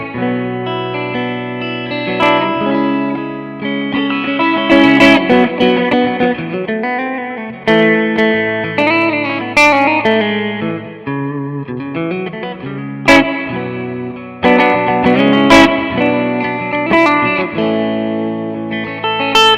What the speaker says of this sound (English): even with the reverb on 10, it sounds really nice